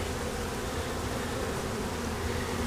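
Honey bees from a fallen colony buzz steadily in a dense, continuous drone during a swarm trap transfer, close and constant throughout, with no voices.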